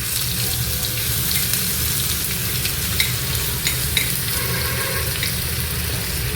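Crushed garlic and ginger hit hot oil with popped mustard seeds in a pan for mango pickle, producing a continuous hissing sizzle with a few light clicks of stirring.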